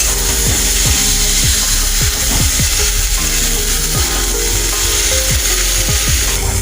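Banana flower and potato sautéed with spices in a pan, loud close scraping and rhythmic stirring strokes over a constant hissing sizzle, with no talk.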